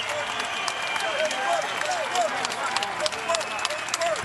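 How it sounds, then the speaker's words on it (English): Crowd applause and cheering in a championship boxing arena at the Consol Energy Center in Pittsburgh, a broad, sustained roar with scattered claps and whistles, and voices audible within the crowd noise. "how about a great round of applause for 10 sizzling rounds of championship boxing"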